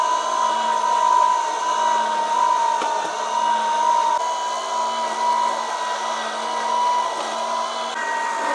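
A budget auger juicer from Amazon runs steadily, giving a continuous motor whir with a constant tonal hum. No voices are present, and the level stays even throughout.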